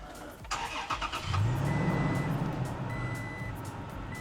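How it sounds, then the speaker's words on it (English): A 2020 Toyota Tacoma TRD Off Road starts up from inside the cab, a short crank settling into a steady mid-pitched idle with faint repeating beeps over it, heard close. "now let's try to start the engine so that we can remove the screws"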